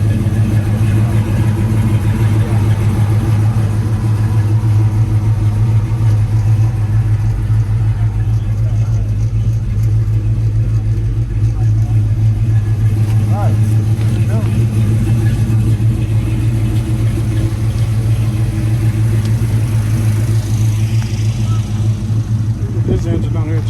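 A 350 car engine at a Caffeine and Cars show in Choctaw, Oklahoma, idles with a steady low rumble and occasional revs, continuous and close, while people talk nearby throughout.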